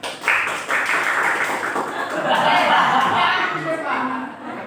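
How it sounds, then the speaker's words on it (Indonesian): In a classroom clapping game, students respond to a teacher's cue with a sharp clap that swells into a scattered burst of clapping and tapping, mixed with chatter and a little laughter. "Tepuk tunggal."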